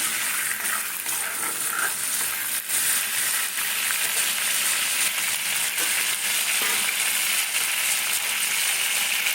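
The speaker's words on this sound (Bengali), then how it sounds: "এবার ওই তেলের মধ্যে পেঁয়াজ থেকে কোচানো পেঁয়াজ দিচ্ছি" Chopped onion frying in oil in a pan sizzles steadily and loudly, with scraping stirring strokes running through it and no voices.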